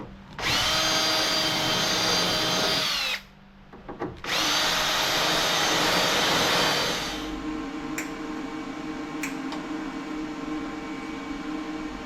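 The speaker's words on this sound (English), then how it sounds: "grind everything at once" A power grinder works on tack welds on the hood of a 1969 Pontiac Catalina wagon, whining loudly in two long bursts with a short pause between them, then winding down into a quieter, lingering hum.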